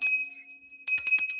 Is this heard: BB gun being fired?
no